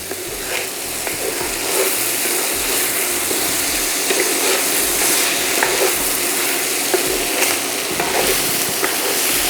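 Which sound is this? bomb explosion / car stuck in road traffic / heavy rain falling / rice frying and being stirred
rice frying and being stirred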